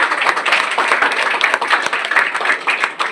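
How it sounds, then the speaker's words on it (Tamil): An audience claps at a science exhibition in Neyveli honoring young scientist award winners, a lively patter of many individual hand claps, close and fairly loud, sustained without pause. "ஒரு கைத்தட்டல் கொடுக்கலாமா?"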